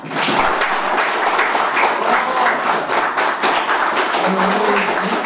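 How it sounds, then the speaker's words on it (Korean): Audience at a National Assembly forum on building a K-bio lab centre in Korea gives dense, sustained applause throughout, loud and even with no break. "이렇게 우리 토론에 참석해 주신 한 분 한 분께 다시 한번 크게 감사의 박수를 좀 부탁드리겠습니다"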